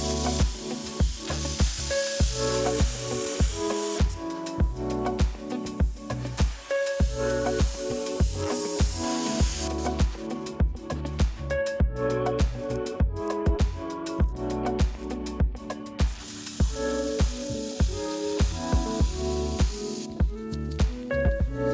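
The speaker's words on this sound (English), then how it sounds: "let's go ahead and hook up the plasma cutter and cut a little bit right there" A plasma cutter slices through steel subframe bracket plates for a 1966 Ford Mustang Coyote swap: a loud, steady hissing spray with harsh buzzing overtones, running in long continuous passes broken by short pauses.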